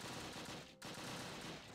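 Rifle fire rattles in the wartime strategy game Close Combat: Wacht Am Rhein, a dense crackling fusillade of overlapping shots from a distance, broken by one brief lull, with no talking.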